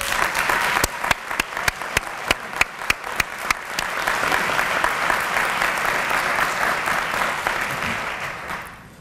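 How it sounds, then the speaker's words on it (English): An audience at a HOSA closing session applauds the board chair: a few loud, sharp claps first, then a swelling, sustained round of crowd clapping that fades out at the end. "I'd ask you to give her a huge round of applause for her time"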